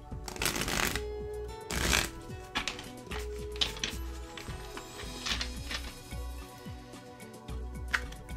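Tarot cards from the Astromatrix deck are shuffled by hand, giving close, crisp riffling bursts and soft flicks and taps spread irregularly across the clip.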